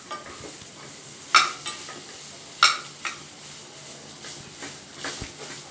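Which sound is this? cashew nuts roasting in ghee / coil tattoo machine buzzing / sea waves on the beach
cashew nuts roasting in ghee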